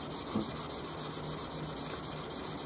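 Hand sanding a dyed poplar bass guitar body with 220 grit sandpaper, a steady back-and-forth scratchy rub in a quick even rhythm, close and continuous with no voices.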